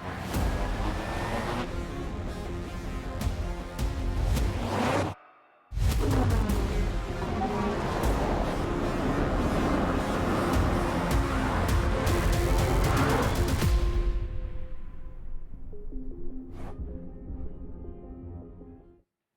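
A nearly 6,000-pound Cadillac LYRIQ-V electric SUV drifts, giving a loud, sustained roar of tire noise that cuts out briefly, resumes at full strength, then fades away near the end.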